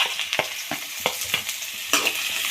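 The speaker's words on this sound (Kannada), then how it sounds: "ಎಣ್ಣೆಗೆ ಹಾಕಿ ಗೋಲ್ಡನ್ ಬ್ರೌನ್ ಆಗೋವರೆಗೂ ಹುರ್ಕೊಳ್ಳಿ." Chopped onions frying in hot oil for a simple tomato egg curry, a steady bright sizzle broken by repeated sharp scrapes and clicks of a spatula stirring the pan, close and without any talking.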